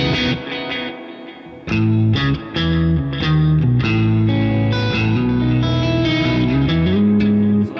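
Electric guitar with a driven yet clean tone, doubled octave notes and a dotted-eighth delay, playing a melodic line with chords ringing out, loud and close.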